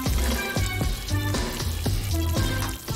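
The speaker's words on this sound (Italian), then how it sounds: "Ok, ora sciacquo la crema da barba." Running water rinsing shaving cream off a spray-painted board, a continuous splashing hiss with a faint rhythmic pulsing as the stream shifts across the surface, no voices.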